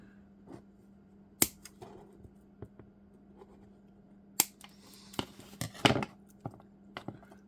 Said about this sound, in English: I will remove this red wire. Actually, I'll just cut it off because I don't need it.